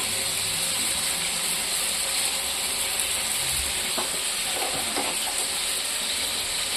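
Ridge gourd (jhinge) sautés in a hot pan, giving off a loud, steady sizzle that runs the whole time, with a few faint scraping and stirring clicks partway through.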